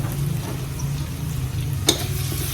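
Meat frying in a pan with shrimp paste for pinakbet, a steady low sizzle throughout with one sharp clink of a utensil near the end.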